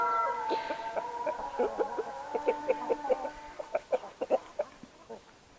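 Several farm hens cluck close by, starting with drawn-out calls that break into a quick run of short, sharp clucks near the end.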